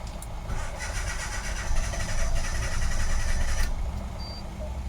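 A car with an automatic transmission fault is being cranked and started by a mechanic, the engine turning over steadily at moderate distance with a continuous rumbling churn and a faint high beep.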